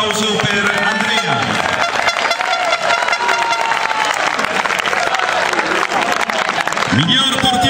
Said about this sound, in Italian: Un applauso per Andrea